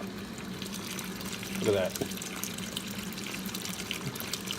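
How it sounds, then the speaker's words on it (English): Water from a tap runs through a coin tumbler holding dirty clad coins, a steady rushing wash with a brief louder splash early on, while a voice speaks a short remark over it. "let's just set that in there and run some water through it"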